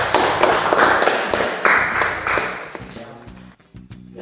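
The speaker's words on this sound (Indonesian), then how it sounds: "kita beri aplaus untuk kelompok yang kedua" A room full of people claps for a group after its presentation, a dense burst of hand claps that runs steadily for several seconds and then thins and fades toward the end.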